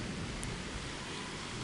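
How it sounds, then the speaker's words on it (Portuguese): Light drizzle after heavier rain in Guajará-Mirim, Rondônia, a soft, faint, even patter that stays steady throughout with no voices. "Tá só chuviscando."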